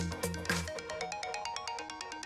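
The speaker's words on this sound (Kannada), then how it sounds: "ಇಲ್ಲಿ ನೋಡು, ಅವನೇ ಕಾಲ್ ಮಾಡ್ತಿದ್ದಾನೆ." A mobile phone ringtone plays a repeating melodic electronic pattern for an incoming call, fairly quiet and steady with no talking.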